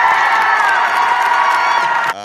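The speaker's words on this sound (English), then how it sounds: "She is applauded." A large crowd at a high school state championship meet applauds and cheers loudly and steadily, a dense, continuous roar that cuts off abruptly at the end.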